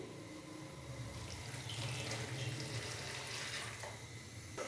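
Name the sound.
water poured into a pan with onions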